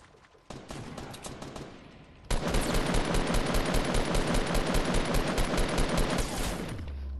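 Rapid automatic gunfire in a Fortnite duo match rattles steadily for several seconds after a few scattered earlier shots, loud and close, then cuts off abruptly.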